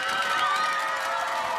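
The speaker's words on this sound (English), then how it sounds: "Listen to the cheer." A local roadside crowd cheering at a Tour of Denmark time trial stage, a steady wash of distant voices and shouts, moderately loud and unbroken.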